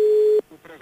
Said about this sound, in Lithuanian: Aš skambinu Inetai, o jūs tas skambinu tėčiui.